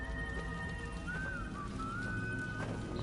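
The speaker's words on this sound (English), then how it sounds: "Mr. Joseph Seed whistling that." Joseph Seed from the video game Far Cry 5 whistles a quiet, steady melodic tune that drifts up and down in pitch over a low, constant game ambience, with no talking.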